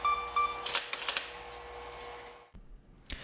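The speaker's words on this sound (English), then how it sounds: "Now I wanted to do a focus test so you can hear the shutter." Sony Alpha A7r mirrorless camera firing its shutter during a focus test: a few close, crisp mechanical clicks in quick succession around one second, then a fade to near silence and one more faint click at the end.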